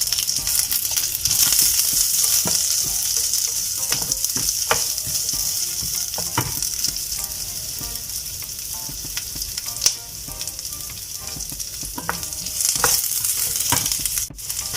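Cumin, garlic and ginger sizzle loudly in hot butter in a pan for pasta, a steady frying hiss with spoon scrapes and clicks from stirring throughout.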